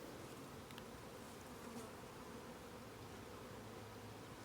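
Bees buzz around outdoor beehives as a faint, steady, diffuse hum, continuous for several seconds with a few individual insects passing slightly closer and no talking.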